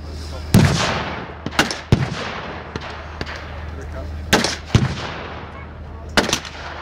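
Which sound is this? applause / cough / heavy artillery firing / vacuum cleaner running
heavy artillery firing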